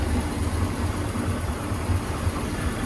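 Cobalt 24SD boat with a MerCruiser 377 MAG 320 hp Bravo III engine idling, a low steady rumbling hum with even pulsing, heard close and unbroken.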